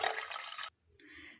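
Water poured into a pressure cooker for mutton biryani, a short gushing splash that cuts off abruptly, followed by a softer trickle.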